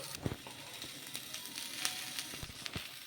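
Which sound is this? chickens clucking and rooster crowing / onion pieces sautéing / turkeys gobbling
onion pieces sautéing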